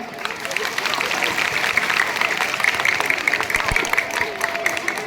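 An audience at an Independence Day school function claps for donors and girls, a dense crowd patter lasting the whole stretch with some voices mixed in.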